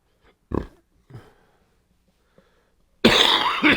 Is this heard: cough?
yes